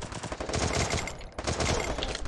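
Rapid automatic gunfire in the Free Fire battle royale game, dense bursts of shots crackling almost without pause, loud and close, with no talking.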